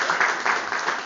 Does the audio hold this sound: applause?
yes